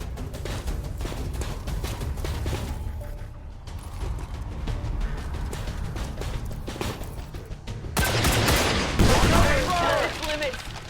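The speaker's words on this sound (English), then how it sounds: "Taking heavy fire." Gunfire in XCOM 2 rattles in rapid bursts of sharp cracks, steady and close, then swells louder near the end with a burst of heavier fire.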